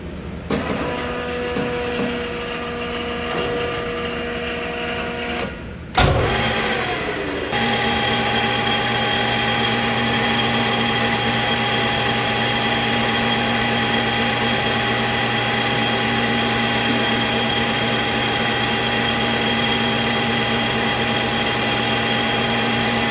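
A LeBlond metal lathe runs steadily with a continuous tonal mechanical hum. Its pitch jumps and settles into a slightly louder, steady whine after the speed is increased, with no talking.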